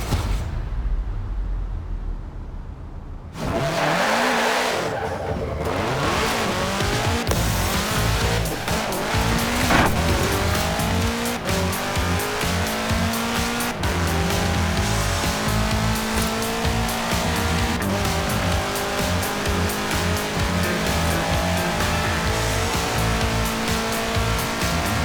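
A 1966 Volkswagen Beetle fitted with a 2.5-liter turbocharged flat-four engine roars and revs hard in Forza Horizon 4, with continuous loud engine drone, shifting pitch and tire squeal after a quiet opening few seconds.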